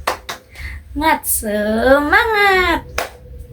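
A classroom group does a rhythmic spirit-clap ice breaker, with a few sharp claps near the start between voices, followed by children and a teacher chanting loudly over the claps.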